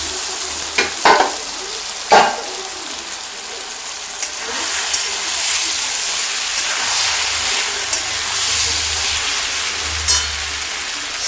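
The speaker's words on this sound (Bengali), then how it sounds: "আর এখন আমি এখানে দিয়ে দিব ভিজিয়ে রাখা জল ঝরানো সাবু।" Soaked, drained large-pearl sago frying with sautéed vegetables in a pan, giving a steady loud sizzle with a few sharp scraping clicks from stirring early on, heard alone without voices.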